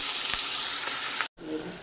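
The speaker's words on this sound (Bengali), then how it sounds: "আর একটু জিরে ফোড়ন দিচ্ছি" Cumin seeds crackle and hiss in hot oil while being tempered for a Bengali mutton curry. The sizzle is loud and steady, breaks off abruptly for a moment, then resumes a little softer.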